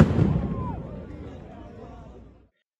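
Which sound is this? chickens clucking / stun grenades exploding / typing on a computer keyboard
stun grenades exploding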